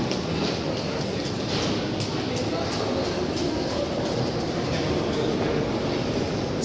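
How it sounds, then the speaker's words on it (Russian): Moscow metro train at Maryino station, a steady loud rumble and roar of the train filling the whole stretch, with faint rhythmic clatter and people talking underneath. "вот и метро"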